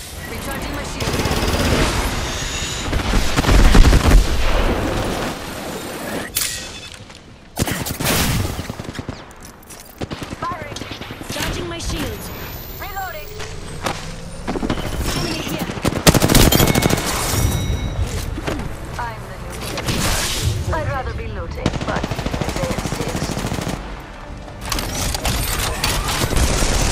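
Rapid automatic gunfire and single shots ring out in the battle royale game Apex Legends, dense bursts and sharp cracks over loud, busy combat ambience, with short gaps between volleys and a voice talking intermittently.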